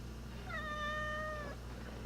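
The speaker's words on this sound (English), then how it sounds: "He's trying to get him to meow for you." A domestic cat gives a single clear, drawn-out meow lasting about a second, heard indoors at low level over a steady background hum, with no voices during the call.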